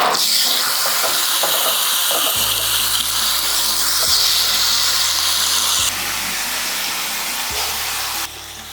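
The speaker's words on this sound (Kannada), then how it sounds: "ಗ್ರಿಲ್ ಪ್ಯಾನ್ ತೊಗೊಂಡಿದ್ದೀನಿ ಅದಕ್ಕೆ ಸ್ವಲ್ಪ ಎಣ್ಣೆ ಹಾಕೋಣ ಚಿಕನನ್ನು ಫ್ರೈ ಮಾಡೋಣ" Chicken fries in oil on a grill pan, a loud continuous sizzle and hiss close up, with a low steady hum underneath that shifts level a few times.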